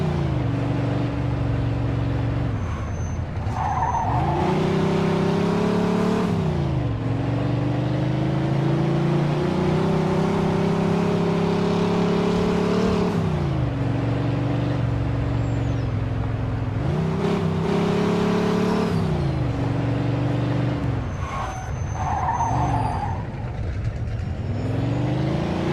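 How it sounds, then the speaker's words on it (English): A speeding car engine in a Mafia 2 police chase, close and loud throughout, revving up and dropping repeatedly as gears shift, with a few faint siren-like whistles over the steady drone. "Pursuit of a speeding vehicle."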